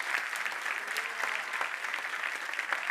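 A crowded audience claps loudly and steadily for the full stretch, a dense, continuous wash of hand claps with no voices standing out.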